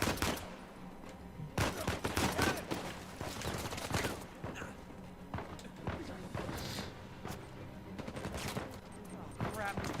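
Gunfire in the video game Uncharted 4 on Crushing difficulty: repeated loud, close bursts of shots mixed with game effects and footsteps, continuing through the scene under a player's voice.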